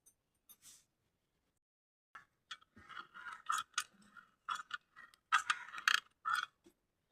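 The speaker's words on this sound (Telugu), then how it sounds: "జంతికల గొట్టంలో వేసిన తర్వాత ఇలా చక్కగా ఇలా తిప్పేయడమే" A hand-turned jantikalu murukku press squeezing dough, giving a run of faint, close creaks and scraping clicks in irregular bursts, sparse at first and then denser, in an otherwise quiet kitchen.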